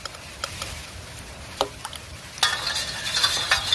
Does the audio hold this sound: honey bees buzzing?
no